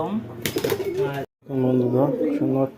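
Allahabadi kaldom pigeons cooing in a steady, throaty warble, close and clear, with a short silent gap partway through; someone talks over the birds in places.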